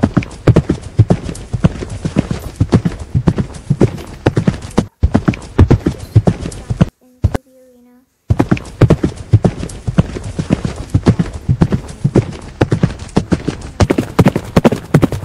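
Steady hoof clip-clop of a horse walking while ridden bareback at a stable, a continuous rhythmic series of close, crisp strikes with a brief gap partway through.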